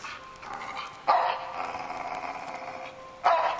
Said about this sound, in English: What's with the growling?